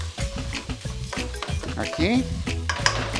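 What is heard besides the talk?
stirring seasoned rice and fish mixture in a pot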